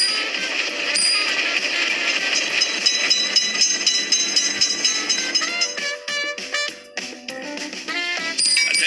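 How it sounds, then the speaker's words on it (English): Train passing a railroad crossing in a mobile railroad crossing game, a loud, dense mechanical rumble with metallic ringing and clanking that breaks into rhythmic clatter toward the end. "Train is coming."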